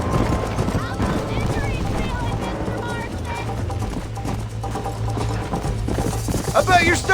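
Horses gallop in a Red Dead Redemption race, hooves clip-clopping in a steady rhythm under a constant low rumble, with a voice shouting over the run and the pace picking up near the end.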